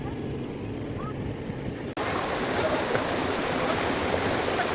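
Steady broadband rush of the Bambi Falls waterfall in the mountains of Negros Occidental, Philippines, a continuous roar that jumps louder partway through as the falls come closer.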